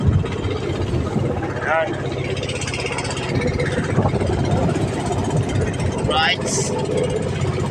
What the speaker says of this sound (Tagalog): isang makina lang yung pinandar namin dahil para medyo makatipid